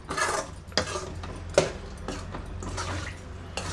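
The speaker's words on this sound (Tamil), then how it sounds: "தண்ணி ஊற்றி நல்லா கிளறி விட்டுக்கலாம்." A utensil scrapes and clinks against a pan while water sloshes softly as Chettinadu brinjal curry is stirred, several light knocks spaced irregularly, close and quiet.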